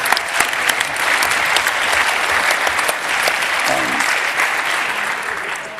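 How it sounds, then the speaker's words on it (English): A large hall audience at a hacker congress bursts into sustained, loud applause for a speaker, a thick wash of many hands clapping evenly for several seconds with no talk over it. "please give Jens a gigantic, gigantic, heartfelt round of applause"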